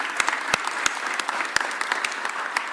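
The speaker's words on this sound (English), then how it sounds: "So let's give the Eagles organization another round of applause." A crowd applauds for the Philadelphia Eagles organization at a city announcement about the Super Bowl parade, steady dense clapping with scattered sharper claps throughout, sustained and fairly loud.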